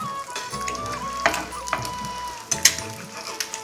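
An egg sizzles and fries in a pan for brown bread toast, with a steady hiss and a few sharp clinks and taps of a utensil against the pan; no one speaks.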